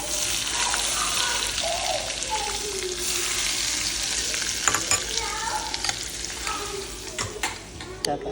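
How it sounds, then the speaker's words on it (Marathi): Mustard seeds and cumin crackle and pop loudly in hot oil while tempering for a sweet-sour lemon pickle, with a continuous close sizzle scattered with sharp spitting pops. "मोहरी आणि जिरे बघा कसे मस्त छान तडतड झाले, छान तडतड."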